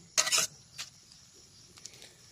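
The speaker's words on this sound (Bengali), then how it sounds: "এখন আমরা এটা নাড়াচাড়া করে দিলাম, ঢেকে রাখবো।" A utensil scraping and clinking against a pan of fish and potato curry, one sharp metallic stir near the start followed by a couple of faint taps in an otherwise quiet kitchen.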